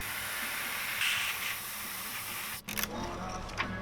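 An airbrush loaded with black magenta paint sprays through a slit in film stencil material onto a fish swimbait, a steady close hiss that stops briefly before resuming more softly.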